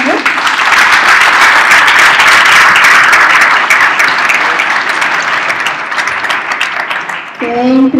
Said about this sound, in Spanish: Le damos un aplauso primero a Ana Mayor.